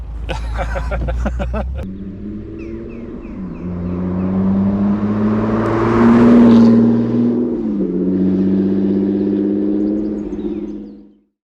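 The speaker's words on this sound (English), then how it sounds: "we're talking about his 1981 Triumph TR7 Convertible" A 1981 Triumph TR7 Convertible drives along the seafront in Southend, its engine droning and rising under acceleration before fading out, with a brief voice at the start.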